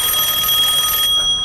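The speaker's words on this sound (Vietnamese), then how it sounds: "Điện thoại hả? Con điện thoại." A telephone rings with a steady, bright electronic trill that continues loudly for about a second, then cuts off, leaving faint background hum.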